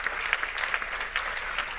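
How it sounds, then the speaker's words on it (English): Audience applause at a 25th anniversary event following a panel with the governor, a short burst of dense, even clapping from a crowd, alone without talk. "Let's give a round of applause to the governor and this panel."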